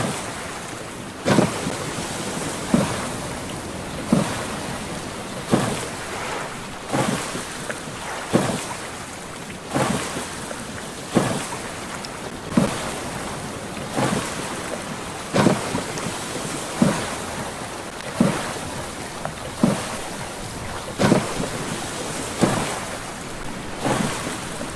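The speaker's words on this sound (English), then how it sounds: "that was the wind I was hearing." Stormy wind and ocean waves in the survival video game Stranded Deep roll in as a steady roar, with surges breaking about every second or two at a near, even pace.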